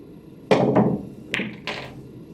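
Pool cue strikes the cue ball for a top spin curve kick shot on a billiards table: a crisp thunk, then a few separate knocks as the balls connect, close and clear with no talk.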